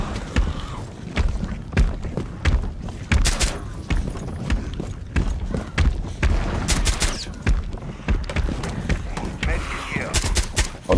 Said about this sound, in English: I'm gonna try to grenade people.